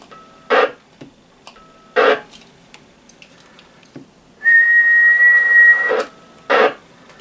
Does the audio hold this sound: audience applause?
no